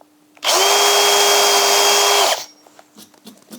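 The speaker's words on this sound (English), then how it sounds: "I'm just going to drill these by hand" A 4mm lip and spur bit bores into a small wooden toy part clamped in a vise, a steady loud whine held for about two seconds before cutting off abruptly, followed by faint clicks and handling noises.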